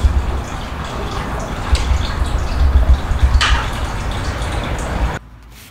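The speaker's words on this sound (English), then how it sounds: "undo the clamp right here, the pull-up type, and it should undo that and start draining" Coolant drains from the lower radiator hose of a BMW F30 328i after its clamp is released, a steady close splashing trickle with a few drips, ending abruptly.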